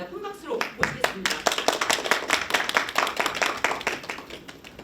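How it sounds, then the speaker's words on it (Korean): Applause from the audience at a Busan labor-rights research forum: brisk, fairly close clapping that starts after a brief voice and builds into dense, uneven hand claps, loud and continuous to the end. "큰 박수로 모시겠습니다."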